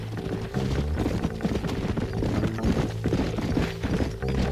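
A horse gallops in a video game, a continuous run of quick hoof clip-clops with occasional thumps and impacts, all over background game music and effects.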